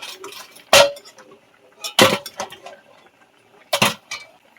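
Boiled eggs are lifted out of a pot one by one, giving three sharp clinks and knocks of a utensil against metal, separated by quiet gaps with faint water sounds.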